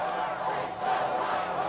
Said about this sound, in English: you can hear the Hart Indian crowd through the glass of the press box